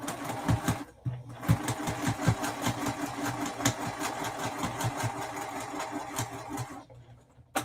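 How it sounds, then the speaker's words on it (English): A sewing machine stitches over pins in quilt fabric, running in quick rhythmic bursts with a brief pause near the start and stopping just before the end, close and steady. "I am sewing over my pins"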